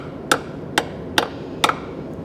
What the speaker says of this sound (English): I want to knock it in really to make it a nice fit.